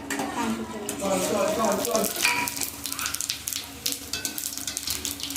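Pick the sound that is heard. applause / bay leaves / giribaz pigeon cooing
bay leaves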